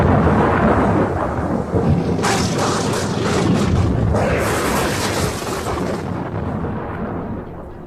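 A thunderstorm sound effect in an audio drama set on a ship in 1895: heavy, continuous rumbling thunder with rolling crashes and rain-like hiss, loud and close, slowly easing off toward the end.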